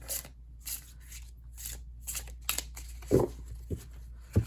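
Tarot cards from an indie deck are shuffled and handled close by in a quiet room, giving soft papery riffles and sharp slaps and taps at irregular intervals.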